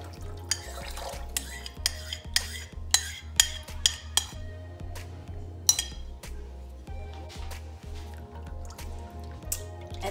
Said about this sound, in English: I'm gonna add 1 can of coconut milk,